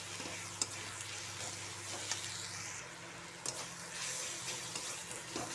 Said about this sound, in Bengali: মশলাটাকে ভালো করে মিক্স করে নিতে হবে।